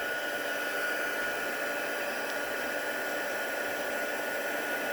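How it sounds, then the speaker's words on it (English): A heat tool blows hot air to melt clear embossing powder on a card, a steady, even whooshing hum held for the whole span, close and continuous, with no voices. "Turn this on. Let's melt that clear embossing powder."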